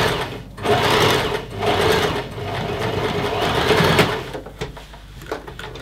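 A sewing machine runs in steady, continuous bursts as it stitches closed a dart on a fabric teddy bear, with brief pauses between runs and the motor whirring loudly and close.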